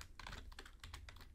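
Fingers tap quickly on a computer keyboard in short irregular bursts of crisp clicks, quiet and close, with no voices.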